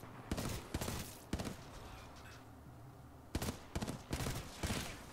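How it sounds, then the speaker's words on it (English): Gunfire in Titanfall 2 cracks out in several sharp bursts: two clusters of rapid shots at the start, a lull with a faint low rumble, then three more loud volleys near the end. "Oh, someone's shooting at us."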